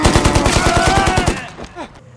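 Rapid machine-gun fire rattles in a fast, even burst of about a dozen loud shots during a World War II battle scene against Japanese soldiers, then cuts off into a short trailing echo.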